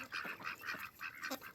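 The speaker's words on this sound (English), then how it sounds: "we'll finally add some of our ducks making noises and doing all their wonky stuff" Free-roaming farm ducks give a series of short, nasal quacks and honks in uneven bursts, moderately close, with no talking.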